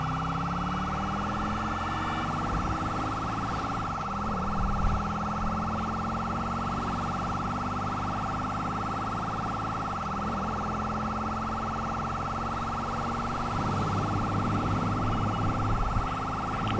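A police car siren wails in GTA 5, rising and falling in long repeating sweeps over a steady engine drone, loud and close throughout.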